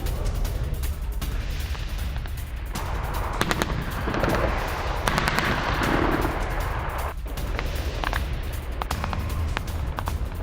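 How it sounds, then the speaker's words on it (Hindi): Russian forces firing on Ukrainian positions: a dense, continuous barrage of gunfire with rapid bursts and heavier artillery-like blasts that rumble together and never fall silent. "रूस का यूक्रेनी पोजीशंस पर फायरिंग"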